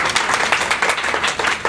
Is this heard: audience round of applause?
yes